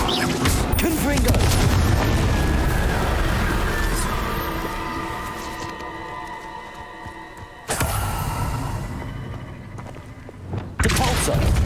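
Confringo fire spell blasts in Hogwarts Legacy, with roaring, booming bursts and crackling impacts over a dense game soundscape, several abrupt hits, and a player's voice in the mix.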